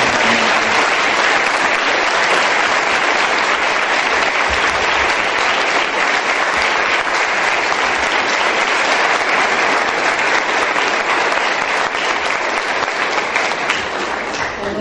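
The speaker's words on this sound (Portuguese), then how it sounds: "Vamos aplaudir ao Senhor." A church congregation applauds the Lord in sustained, dense clapping at steady, loud volume from start to finish, with no pauses and no voices rising above it.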